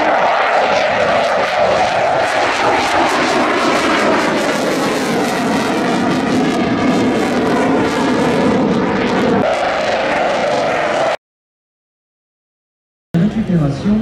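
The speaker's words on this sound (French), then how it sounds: "Premier passage avec une remise des gaz à l'issue" A loud propeller airplane roars past at close range at an airshow, engine droning and shifting in pitch, then cuts off abruptly before a brief return of noise.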